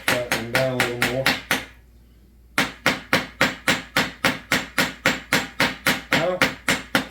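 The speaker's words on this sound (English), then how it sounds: "I'm kind of going around the head of the rivet, trying to tap it down" A hammer taps around a rivet head on a new chainsaw bar tip, striking in a quick, steady run of sharp metallic blows with one brief pause before the rhythmic tapping resumes, close and loud.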